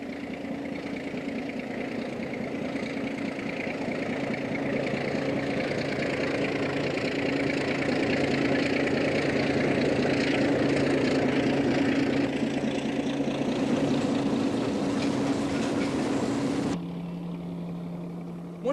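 D&H Baldwin Shark diesel locomotives leading a train give a steady, loud engine drone with a sustained low hum, which drops abruptly to a quieter idle near the end.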